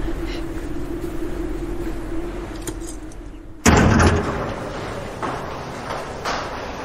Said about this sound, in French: Là, le bruit qu'on entend, le ronron, c'est le moteur.